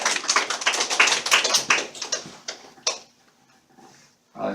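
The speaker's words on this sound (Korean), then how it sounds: "박수 한번 주시고요." Students in a philosophy class clap after a presentation, a brisk flurry of close hand claps that thins out and stops, leaving a quiet room.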